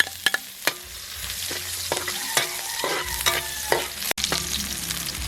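Marinated duck sautéing in a hot pan, a steady close sizzle broken by repeated sharp clacks and scrapes of a utensil stirring against the pan.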